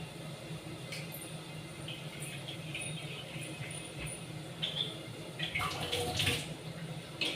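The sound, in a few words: filling a water bottle with water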